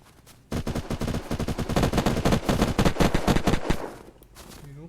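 Rapid automatic gunfire from a shooter video game cracks in dense continuous bursts for about three and a half seconds, loud and close, then thins out near the end.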